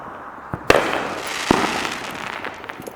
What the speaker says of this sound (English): It's hard to talk with all these fireworks.